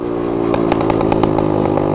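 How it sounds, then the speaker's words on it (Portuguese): A motorcycle with a loud aftermarket exhaust revs hard nearby, giving a steady buzzing drone broken by rapid crackles and pops. No one speaks over it. "Olha os estralos."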